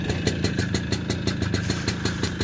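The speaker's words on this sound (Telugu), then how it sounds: "ఇంజన్ సౌండ్ వినండి మెయిన్ ఇంపార్టెంట్ ఇంజన్ సౌండ్ వినండి" A TVS XL moped engine runs steadily at idle, a fast even putter with a slight rattle, close and constant throughout.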